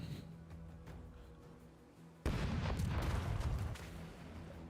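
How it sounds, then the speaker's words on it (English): Cannon fire in a video game: a sudden deep, booming blast erupts midway, followed by a rumbling, crackling roar that lingers over a steady low background hum. "Let's hear those cannons."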